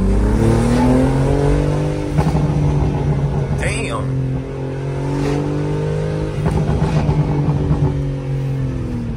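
A BMW G80 M3 with a custom exhaust downshifts and revs on a street, the engine rumbling loud and close and rising and falling in pitch, with a brief high squeal partway through and someone talking over it.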